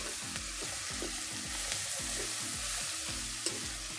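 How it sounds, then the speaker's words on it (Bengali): Spices with tomato, salt, turmeric and chilli powder for a silver carp malai curry sizzle steadily in a hot pan while being stirred, with repeated scraping strokes close by and no voices. "মশলাগুলো আমি এখন ভালো করে কষিয়ে নিচ্ছি।"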